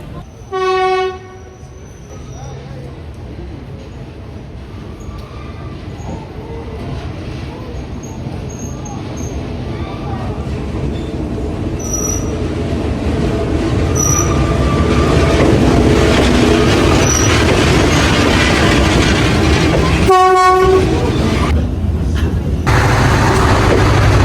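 A train rumbles along Train Street in Vietnam, approaching and growing steadily louder as it passes close by, with horn blasts near the start and again later over the continuous rolling noise.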